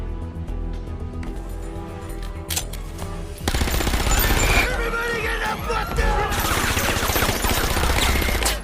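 Masked robbers fire in several directions inside a bank during a robbery film scene. A quieter, tonal opening gives way to loud, sustained bursts of rapid automatic gunfire that continue to the end.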